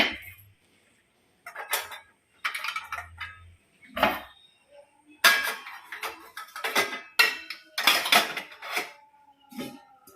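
Dishes and plates clink and clatter in irregular bursts as they are loaded into an LG dishwasher, with quiet pauses between placements.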